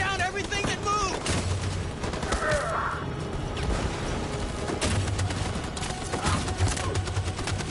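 Machine gun fire in the video game Detroit: Become Human, a dense, continuous rattle of shots and booms with faint voices mixed into the battle noise.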